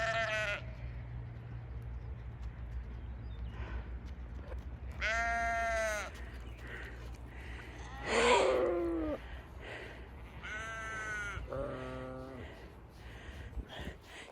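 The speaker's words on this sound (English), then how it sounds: "Are you watching your sheep?" Sheep bleat several times at close range on a farm, the calls spaced out over a steady low background hum.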